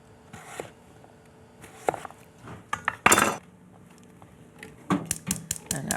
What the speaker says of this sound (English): And peel the turnip, and I'm cutting it into wedges